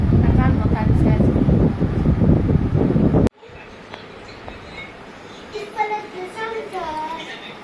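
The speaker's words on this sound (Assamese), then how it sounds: "ইমান বতাহ দিছে আজি।" Gusty wind blows against the microphone, making a loud, rumbling buffet for about three seconds before cutting off abruptly, followed by quieter background with children's voices.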